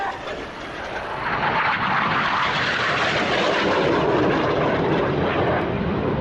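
Aerobatic display aircraft fly the carousel, opposing 360-degree 6G turns in the final manoeuvre, making a loud, sustained engine roar that swells and holds steady over several seconds.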